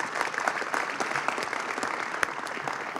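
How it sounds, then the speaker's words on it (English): Audience applause at a public announcement event, a dense continuous wash of many hands clapping at steady strength throughout, with no talking over it. "So give them a round of applause."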